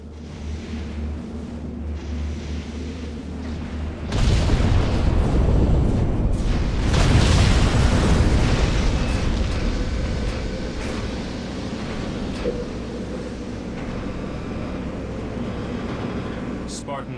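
Carpet bomb strike in Halo Wars, a string of heavy explosions that erupts after a quieter lead-in and rumbles loudly for several seconds before fading back into ambient battle noise.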